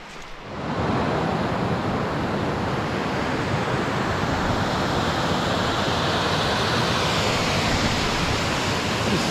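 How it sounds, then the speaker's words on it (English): A large waterfall at White Hill Fall in Pictou County, Nova Scotia, roars as steady, loud broadband rushing water that swells in within the first second and holds unbroken to the end, with no voices over it. "look at this gorgeous waterfall right there"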